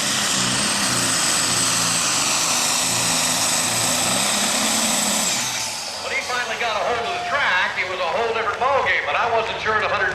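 A Deere super stock diesel tractor roars loudly through a pulling run at an NTPA Grand National event at Fort Recovery, a sustained high-pitched engine whine and turbo scream that cuts off abruptly, then crowd noise and an announcer's voice follow.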